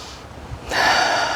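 A steady breath drawn in during a slow-flow yoga practice, close and quiet at first, then swelling into a fuller, airy exhale that carries to the end; no talking.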